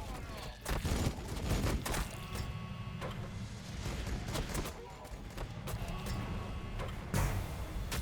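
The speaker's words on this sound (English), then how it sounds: "So they launched their counterattack with their artillery." Artillery fire in the video game Warhammer Battlesector, a series of sharp booming blasts and impacts at irregular intervals over dense battle noise, fairly loud throughout.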